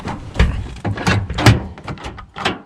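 A 1984 K5 Blazer's locked door is tried with several hard thunks and rattles of the handle and latch, close and loud, in irregular bursts.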